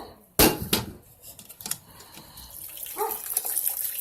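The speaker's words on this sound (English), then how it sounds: "And then pour this water that you mix with the coconut now." Coconut water for rice and peas being poured through stacked strainers, a splashy trickling pour that starts abruptly with a loud splash and then continues as a softer, steady running stream close by.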